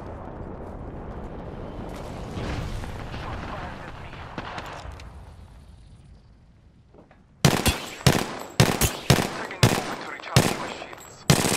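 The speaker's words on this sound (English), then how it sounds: "Some flunkers shooting at me" Rapid bursts of gunfire in Apex Legends, about eight sharp loud shots in quick succession following several seconds of rumbling ambient battle noise.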